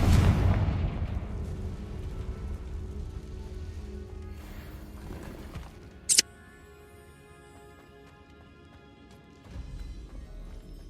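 Confringo fire spell in Hogwarts Legacy inside an abandoned cave: a heavy booming blast opens and decays slowly, followed by a sudden sharp crack midway and a low rumble returning at the end.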